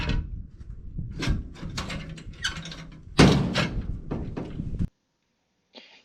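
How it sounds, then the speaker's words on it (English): Food trailer door pulled open and shut with a solid rod via a D-ring at the top, a run of metallic clunks and sliding rattles ending in one firm bang, close up, then a faint tap after silence. "So now when you pull that D-ring at the top, door opens, door closes."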